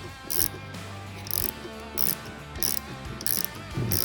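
Wrenches ratchet in repeated short bursts while tightening down a rebuilt Ford Model A steering gear box, clicking clearly and close in a quiet workshop.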